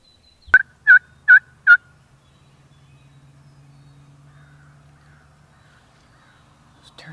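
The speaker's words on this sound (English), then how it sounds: "We got turkeys gobbling all around." Wild turkeys gobble across a field on the Tennessee spring opener: four sharp, rapid gobbling bursts close together, then a low steady background hum with no talking.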